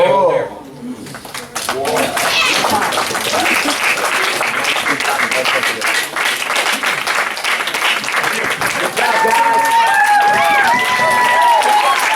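A graduation audience at the Dayton Quest Center applauds loudly and continuously, dense clapping with some cheering after a brief spoken lead-in, with a few clearer whoops near the end.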